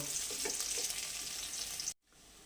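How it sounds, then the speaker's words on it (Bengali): Garlic frying in oil with dried red chilli for a leafy greens dish, a dense steady sizzle filling the clip before cutting off abruptly near the end, leaving a quieter background. "রসুনগুলো ভাজা হয়ে গেছে"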